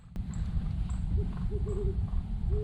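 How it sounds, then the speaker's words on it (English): A great horned owl hoots in the distance outdoors at a campsite, several soft, low hoots spaced across the clip over a steady rumble of rain or wind, with a sharp click near the start. "that one in the distance, the phone says it's a great horned owl"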